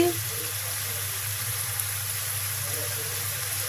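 Spices fry in hot oil for a large pangas fish curry, making a continuous broadband hiss and sizzle with a low steady hum underneath, close and even throughout.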